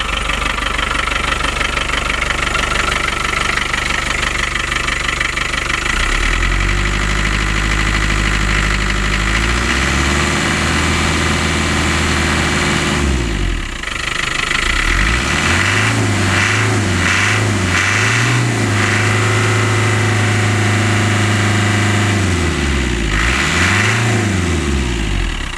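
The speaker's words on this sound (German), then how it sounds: "Gedämpft, so wie es halt muss, ist ein altes Auto, aber es tut seinen Zweck." An old car's engine idles through a muffled exhaust, a steady, low rumbling drone with a slight rhythmic unevenness that pulses and shifts in pitch as it runs, loud and close with no voices over it.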